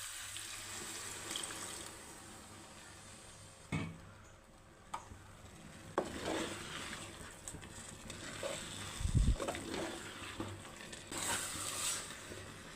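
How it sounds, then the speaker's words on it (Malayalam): Milk is poured into wheat payasam cooking in a pot in a Kerala kitchen, giving faint, intermittent splashing and pouring with a few soft knocks over a quiet background, and no talk. "നമുക്കിതിൽ 1/4 പാൽ ഒഴിച്ചു കൊടുക്കാം."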